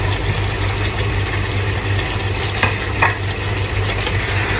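Potatoes and onions fry in a pan with a steady, loud sizzle, broken by a couple of brief scraping stirs, with no voices over it.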